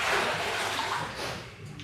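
Water sloshes and splashes continuously as a grouting sponge is rinsed in a small bucket of water, close and fairly loud with no voices.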